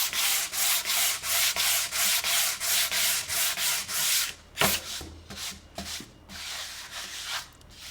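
Sandpaper rubbed by hand across an MDF or wood surface before painting, in steady, evenly spaced back-and-forth strokes at first, then shorter, irregular scrubbing passes, close and fairly loud with no talking.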